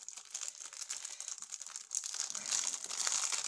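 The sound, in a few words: unwrapping packaging of a Christmas diamond painting kit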